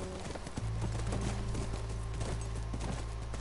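Hooves clip-clop at a steady walking pace in The Last of Us, fairly close and continuous over a low sustained hum, with no one talking.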